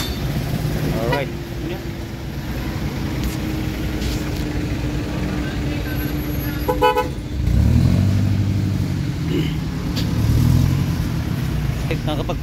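Busy street traffic with a jeep and cars, a constant rumble of engines close by with short car horn toots breaking through and a heavier vehicle surge passing midway.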